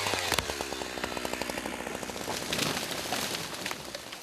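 A chainsaw cuts trees at a Russian logging site, its engine buzzing steadily and close with a rough, rattling edge, pitch shifting slightly as the blade bites into the wood, continuous throughout with no talk.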